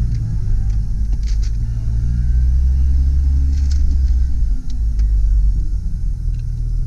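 A 2000 Jeep Cherokee with a 2.5L four-cylinder, manual gearbox and 4WD backs up in two-wheel drive, a loud, steady low engine rumble close by with light clicks and rattles.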